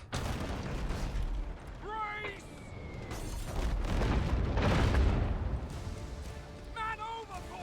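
Ship cannons firing in the naval video game Abandon Ship, a series of heavy booms and rumbling blasts rolling through a dense, continuous battle din with brief whistling tones over it.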